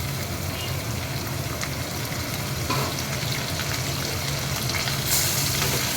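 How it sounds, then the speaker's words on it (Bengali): Prawns sizzle with browned onions in a pan over a fairly low flame, a steady, close frying hiss that holds evenly throughout with no voices. "এই সময় আমি এই যে চিংড়ি মাছটা দিয়ে দিলাম।"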